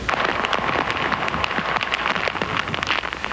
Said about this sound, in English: The rains that are ushering in Hurricane Hugo are slowly and methodically intensifying.